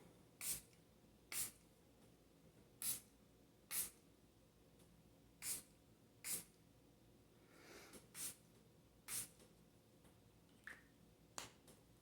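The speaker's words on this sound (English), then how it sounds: "I'm just going to spray a little bit of that to clear and to cleanse our space before we get started." A homemade misting spray bottle pumped about ten times, each spritz a short, crisp hiss spaced irregularly over several seconds, quiet and close with no talking.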